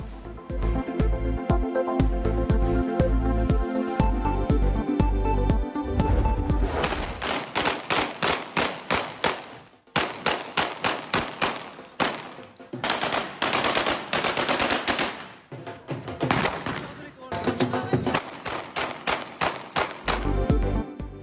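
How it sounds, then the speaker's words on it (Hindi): Automatic weapons fired at a wedding celebration in Chak Jhumra, Faisalabad: long rapid bursts of gunfire, loud and sustained, broken by brief pauses between volleys, with no talking. "फैसलाबाद चकझुमरा में शादी की तकरीब में जदीद असलहा चलाया गया।"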